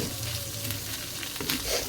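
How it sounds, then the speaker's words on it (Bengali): Fish fry in oil in a wok with a dense, steady crackling sizzle, close and continuous, with a low hum underneath. "তেল ছিল কড়াইতে, হালকা করে ভেজে নিব মাছগুলো"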